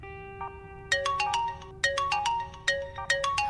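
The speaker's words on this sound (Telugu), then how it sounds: "ఫోన్ ఎత్తురా" A phone ringtone plays a bright, repeating melodic tune of quick high notes in several bursts over a steady tone, loud and close with no talking.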